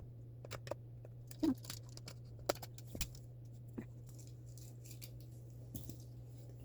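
Scissors snipping a plastic tie that holds a doll's purse in its packaging: a few faint, sharp snips and crinkles over a steady background hum, quiet and close, with no talk.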